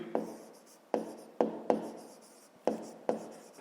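Pen strokes scratch across paper while math exercises are written out by hand, close and quiet, in six separate bursts that each start sharply and trail off.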